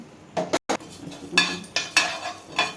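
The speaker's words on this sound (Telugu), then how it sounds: "బ్రౌన్ కలర్ వచ్చేదాకా వేయించాలి" Garlic, cumin, mustard seeds and fenugreek stir-fried in a pan for an instant mango pickle masala, with a spoon scraping and clinking against the metal in several separate bursts over a low background.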